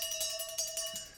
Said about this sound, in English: here the ship's bell played really fast